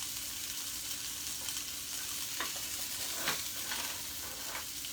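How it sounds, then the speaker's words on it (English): A steady, close frying sizzle of steak in a cast iron skillet crackles throughout, with a few louder pops and spits rising out of the hiss. "Ah, hear that sizzle?"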